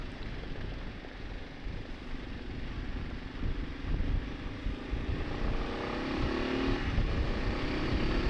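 A 2025 Kawasaki KLR650S engine revs up on a downshift under heavy wind rush, the motor note climbing steadily and staying loud and close throughout.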